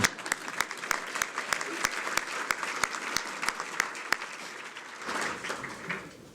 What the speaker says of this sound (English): Of course, you want to clap, Edie?